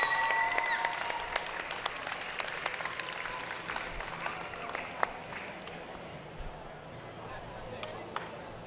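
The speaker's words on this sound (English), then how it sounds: "I would like to give all of the mentors here a huge round of applause" Audience at a 2024 FIRST Robotics alliance bracket event in Rochester, NY applauds the mentors, a steady wash of many hands clapping at moderate distance, gradually thinning out toward the end.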